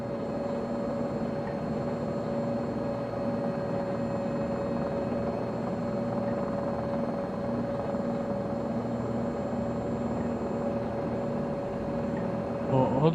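Helicopter engine and rotor drone from Microsoft Flight Simulator 2020, a steady, continuous hum with a strong low tone holding evenly throughout, loud and unbroken, rising slightly at the very end.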